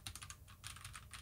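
Quiet, steady keystrokes on a budget 1st Player Mk6 Bullet Hunter RGB mechanical keyboard with red switches, a close run of soft clacks in quick succession with no talking.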